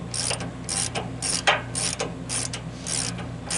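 A ratchet wrench snugs up the guide rail on a Woodmizer LT15 sawmill, making a run of close, crisp clicking bursts in a steady back-and-forth rhythm.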